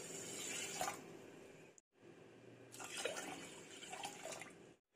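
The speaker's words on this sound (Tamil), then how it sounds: "இப்போ இது வேக வைக்கிறதுக்கு தண்ணி சேர்த்துக்கலாம்." Water pours steadily into a pressure cooker holding rice and lentils for pongal, a soft continuous splashing and trickling with two brief pauses, close and fairly quiet.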